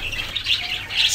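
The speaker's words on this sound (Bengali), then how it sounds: "এই যে দেখুন আরও বাজিগার পাখি।" Budgerigars chirp in an aviary, a steady overlapping chatter of high, twittering calls that stays close and fairly loud throughout, with no talking.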